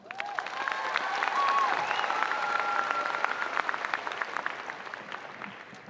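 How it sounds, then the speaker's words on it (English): Audience at a high school graduation ceremony gives a sustained round of applause for the graduating class, a dense steady clapping that swells and holds for several seconds with a few scattered cheers. "Let's start off by giving the Colonies High School Class of 2023 a big round of applause."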